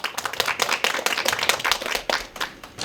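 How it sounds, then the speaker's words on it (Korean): Applause from the audience at an academic conference as a professor is introduced: dense, close hand clapping sustained across the clip, tapering slightly at the end. "박수 부탁드리겠습니다"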